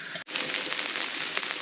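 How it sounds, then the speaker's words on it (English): Water boils hard in a pot over a campfire on a freezing cold night outdoors, a dense, close hiss and bubbling that holds steady after a brief gap at the start. "Now our water's boiling."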